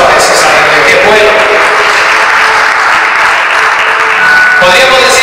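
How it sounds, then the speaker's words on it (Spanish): A church congregation claps loudly for Jesus during a sermon, dense continuous applause throughout, with voices and a faint tonal line sounding underneath. "Denle ese aplauso a Jesús."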